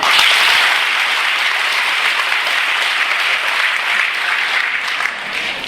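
Students clapping together in a classroom at Kasthurba school, Kannur: loud, dense, steady applause that fills the room without a break and fades slightly at the end, no talk over it.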